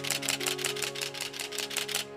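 A Canon DSLR shutter fires in high-speed continuous drive mode, giving a rapid, even burst of about ten crisp mechanical clicks close to the camera, with no talking.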